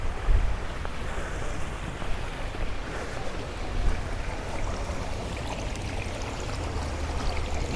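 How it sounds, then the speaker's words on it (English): A garden water feature flows continuously in a community landscape, a broad even wash of rushing water with no voices. "We've got a nice water feature here."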